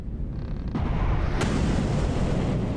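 Missiles launching in the vehicle-building game From the Depths: a continuous roaring rush that swells into heavier blasts, with a sharp crack partway through, loud and close throughout.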